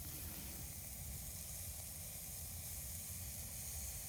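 Ribeye steak sizzling over the hot fire of a Kelly Kettle Trekker outdoors, a steady faint hiss holding evenly throughout with a low rumble beneath and no talk.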